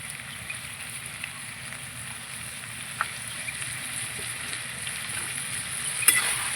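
Spices and vegetables frying in a pan give a steady close sizzle, lightly hissing throughout, with a brief burst as water hits the hot oil near the end.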